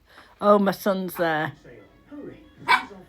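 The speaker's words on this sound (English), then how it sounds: "she's barking at herself in the mirror, in the reflection in the doorway now" An 11-week-old Cavapoo puppy barks at her own reflection indoors, giving a few sharp, high-pitched yaps close by, mixed with a person speaking over them.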